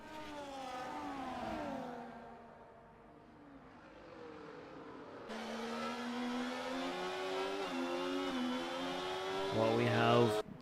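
Race cars in a Zandvoort grand prix video game roar three wide down the straight, layered engine tones rising and shifting in pitch, steady and loud throughout, with a commentator talking over them.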